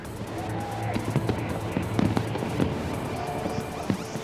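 New Year fireworks over Rio de Janeiro with thousands gathered, as scattered sharp bangs and crackles pop at irregular intervals, moderately distant, over a constant bed of crowd noise.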